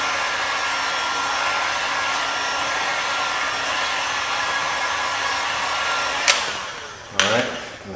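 A heat gun blows a steady, loud whooshing hiss while warming vinyl wrap across the front bumper of a 2015-2017 Subaru Outback, running continuously until it cuts off near the end with a couple of short clicks and clunks.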